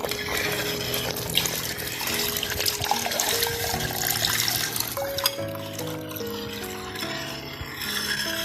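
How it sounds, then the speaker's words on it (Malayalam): Second coconut milk is poured into simmering pumpkin payasam, a continuous close liquid trickle and splash under background music, no speech. "ഇനി നമുക്ക് ഇതിലോട്ട് 2-ാം പാൽ ഒഴിക്കാം."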